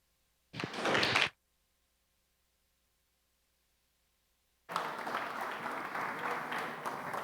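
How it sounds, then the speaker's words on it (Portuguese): Applause from an audience greeting guests on a talk show, a short sharp burst of clapping, then silence, then a longer sustained round of clapping that carries on to the end. "Palmas."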